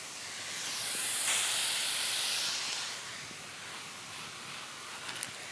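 Collard greens added to onions on a hot grill, a broad hissing sizzle that swells loudly for about two seconds and then settles into a softer, steady fizz.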